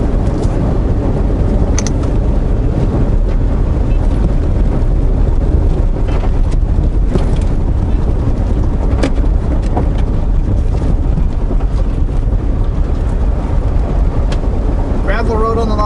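A car rolls down a gravel road through rainforest on Vancouver Island, a loud, steady rumble with heavy wind buffeting the microphone throughout and no clear pauses.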